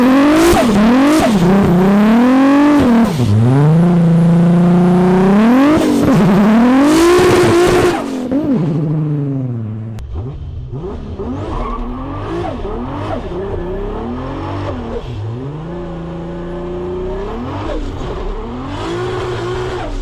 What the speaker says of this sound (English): Should I do a burnout?